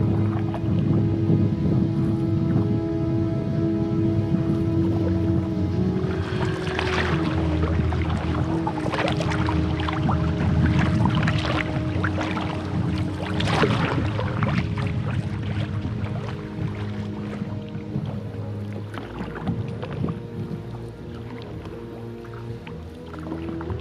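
Canoe paddling on open water in the Arctic wilderness, with paddle strokes and water splashes over a steady wash of wind noise, no voices.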